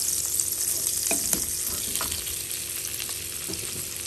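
Paneer frying in butter in a pan gives a steady, soft sizzle throughout, with a few faint clinks and stirring scrapes close by and no talking.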